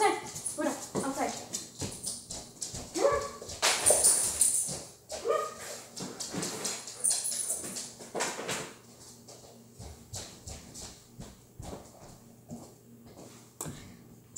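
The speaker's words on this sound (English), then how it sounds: "I'm going to put the dog outside." A pet dog indoors gives repeated barks and whimpers close by, scattered through nearly fifteen seconds, with a person talking over much of it.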